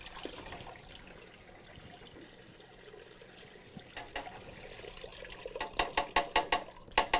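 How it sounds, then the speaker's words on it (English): Water sprays into a B12 water ice machine, at first as a low hiss, then as a series of sharp, rhythmic splashing bursts building toward the end. "I can just shoot my water right in"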